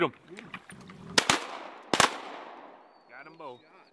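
Two sharp shotgun blasts at ducks ring out about a second apart, close and loud, with faint voices before and after.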